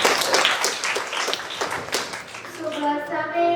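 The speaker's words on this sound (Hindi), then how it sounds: "बहुत बढ़िया, ताली बजाओ" A group of children claps together at a summer camp, a run of quick, sharp hand claps close by, followed by an adult's voice speaking.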